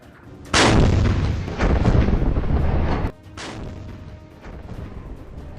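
Gunfire and artillery in an attack on an IDF Merkava tank in Gaza: a loud, sustained roar of blasts and heavy firing for a few seconds, then a quieter stretch of rumbling with further distant shots.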